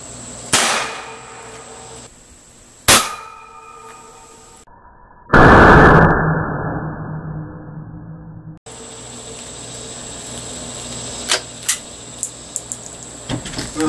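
Gunshots fired at bars of soap at close range on an outdoor range: two sharp loud reports a few seconds apart, then a bigger blast with a long noisy decay, followed by faint clicks and handling sounds.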